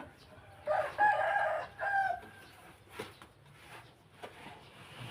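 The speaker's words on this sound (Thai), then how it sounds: "ไก่ไก่" A rooster crows loudly up close, followed by scattered clucks and softer calls from other chickens in an open, quiet setting.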